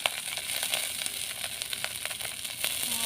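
Garlic and onion frying over a low flame for a Santali-style okra and onion dish, giving a steady close sizzle with scattered crackles throughout.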